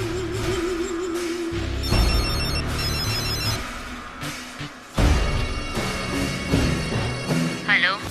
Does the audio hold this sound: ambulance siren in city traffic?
no